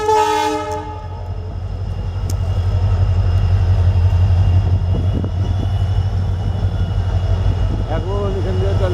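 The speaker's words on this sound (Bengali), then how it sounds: "ওইদিকে ট্রেন আসছে, পুলক রেল লাইনে দাঁড়িয়ে আছে," A train rolls past at a rail line in North Bengal near Sittong, a loud continuous low rumble of wheels and carriages with a horn blast at the start, staying close and steady throughout.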